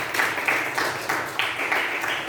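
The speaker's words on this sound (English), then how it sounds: "Please give a round of applause." A small group claps briefly, the claps coming in a quick uneven patter for a couple of seconds.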